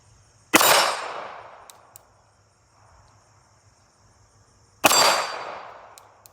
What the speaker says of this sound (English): So missed the last 2 shots.